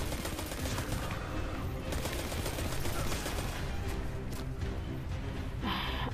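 Rapid short-range weapon fire in the Destiny 2 video game, a dense, continuous stream of close, loud shots running the whole time, ending with a brighter burst near the end.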